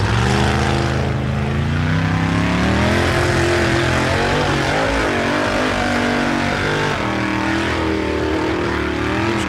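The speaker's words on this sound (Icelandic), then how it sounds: "heyra mátti að bíllinn skipti sér í hærri gír og Ragnar klára þessa braut með stæl" A specially built rally car on a gravel stage at the 2005 Blönduós rally, its engine roaring loud and close throughout, the pitch climbing and dropping as it accelerates and shifts up a gear, with no voices.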